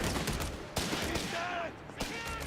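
Heavy machine gun fire from Company of Heroes 3 pounds away in dense, rattling bursts, with sharper blasts cutting through at intervals and a commentator talking over the battle noise throughout.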